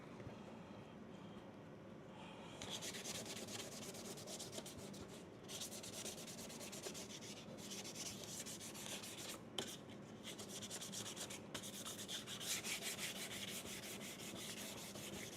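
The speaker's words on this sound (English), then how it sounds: "You can hear it, the roughness, and then it gets smooth with the sandpaper." A painted armor suit piece is rubbed with sandpaper in steady back-and-forth strokes, a continuous rasping scrape with brief pauses, close and fairly loud, with no voice over it.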